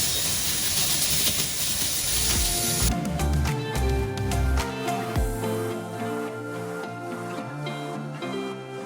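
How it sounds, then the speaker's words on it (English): Water sprays hard and steadily from a kitchen faucet over Brussels sprouts, a loud hiss for the first few seconds before it shifts to clinking and rinsing sounds as the sprouts are handled, with no talk. "Wash my Brussels sprouts."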